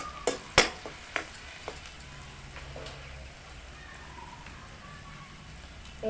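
Broad bean curry with onion and a spoon of turmeric is stirred in a pan: a few sharp spoon clinks and scrapes at the start, then a soft, low sizzle continues quietly on its own.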